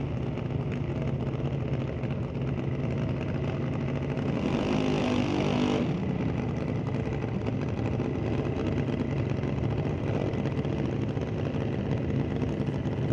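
A drag race car at Mission Raceway during an NHRA Northwest National Open Series event launches down the strip, a steady engine roar heard from some distance, rising briefly to a brighter surge partway through.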